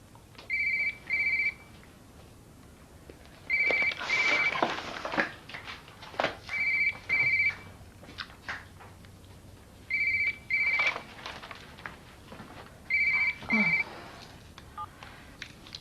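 A telephone rings indoors in repeated electronic double trills, five bursts spaced evenly apart with quiet gaps between them, fairly clear and close with no talking.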